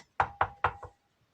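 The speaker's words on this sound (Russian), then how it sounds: "Кто там стучится у ворот?" Three firm knocks and a fourth softer one on a wooden gate, a fairy-tale sound effect, sharp and close with short pauses between them, then quiet.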